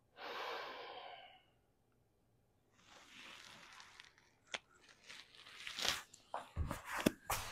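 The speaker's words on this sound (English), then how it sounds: "that was diaphragmatic breathing" Slow diaphragmatic breathing exercise: a long, soft breath, a pause, then further breathy inhales and exhales mixed with short snorts and close rustles, faint and near.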